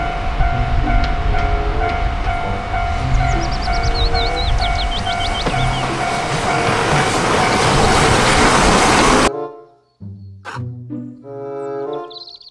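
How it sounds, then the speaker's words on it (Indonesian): A loud, steady rumble of a Thomas toy train running continuously with rattling and a whistle-like tone, then stopping abruptly, followed by brief mechanical chimes. "Kereta Thomas."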